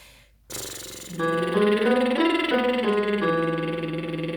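A singer's voice buzzes through loosely fluttering lips in a warm-up lip trill, sliding up and down a short scale in one continuous, steady breath, close and alone.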